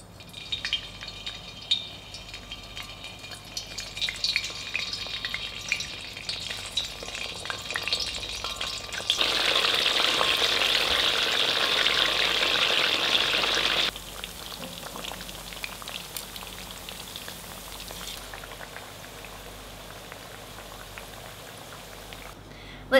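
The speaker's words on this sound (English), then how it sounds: "We're going to fry our tempeh until golden brown." Tempeh rubbed with garlic and salt fries in oil, a steady crackling sizzle with occasional stirring, swelling into a louder, denser hiss midway before settling back to a gentler fry.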